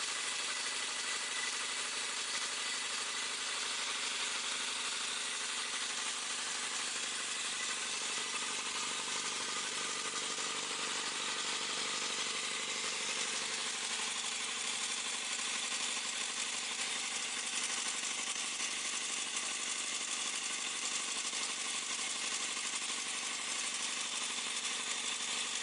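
Portable engine-driven air compressor running steadily, a continuous mid-pitched mechanical drone with a dense hissing, whirring texture and no pauses.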